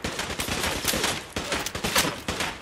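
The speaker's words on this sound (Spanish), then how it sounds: "Vean todos los disparos que le estoy dando." Rapid, sustained gunfire from a Fallout 4 firefight, with dense overlapping bursts of shots like a machine gun firing continuously and loud throughout, with no gaps or talk.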